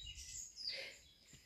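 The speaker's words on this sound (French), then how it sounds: "le bruit des oiseaux." Birds chirp and sing faintly in a mossy, stony woodland on the Camino Francés near Triacastela, with soft calls scattered over quiet ambient hiss.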